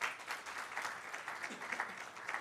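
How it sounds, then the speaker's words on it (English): Auditorium audience applauding the chair and panelists at a formal session, steady dense clapping throughout with no talk over it. "may we have a huge round of applause for the chair and the panelists"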